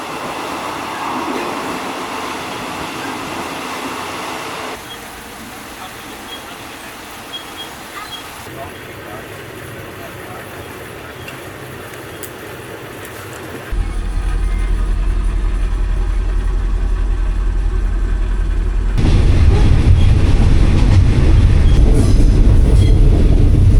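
A third-class passenger train runs on the rails from Bangkok to Chiang Mai in Thailand, a steady rumble that grows louder and heavier as it goes on, with a clattering, rushing quality.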